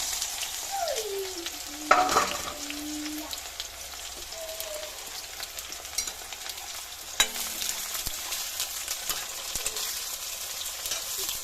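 Chopped onions fry with a steady, dense sizzle in a pan over a husk-fuelled clay stove, a continuous hiss with a few faint tonal sounds drifting in the background.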